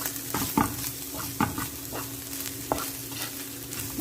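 Fried milkfish sisig seasoned with salt and black pepper is stirred in a frying pan: a soft continuous sizzle broken by several sharp spatula scrapes and taps, close and with no voices.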